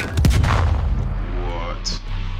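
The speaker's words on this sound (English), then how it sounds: "Grenade!" A grenade blast in the Call of Duty: Black Ops Cold War video game, a sharp heavy boom near the start followed by rumbling debris and game effects, with players talking lightly around it.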